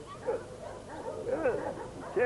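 Farm working dogs give a few short yips and whimpery barks at a distance, faint and scattered over a couple of seconds.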